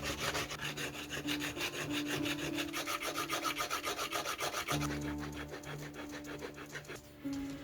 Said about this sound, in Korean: 이번에는 줄을 이용하여 거친 부분을 다듬어줍니다.